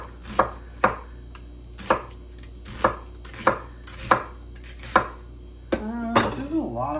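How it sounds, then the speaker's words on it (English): Onion chopped with a knife on a board in a home kitchen: eight crisp, evenly spaced chops at a steady rhythm, close and clear, followed by a brief clatter of utensils and a dish. "I gotta chop some onion too."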